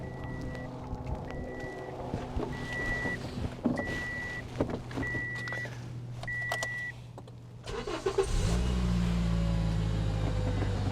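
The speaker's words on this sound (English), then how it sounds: "that's the sound of an engine sweetly running." Petrol, normally aspirated Toyota engine: a low steady running rumble under repeated electronic warning beeps, then a louder, fuller engine sound swelling up near the end and holding steady.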